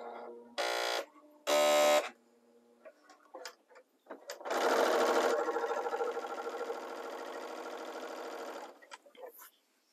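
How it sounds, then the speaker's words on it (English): A serger with its cutting knife engaged runs in two short bursts, then settles into a longer steady hum of stitching and trimming fabric, close and moderately loud, with faint handling noises in between. "my knife is engaged and I'm ready to sew."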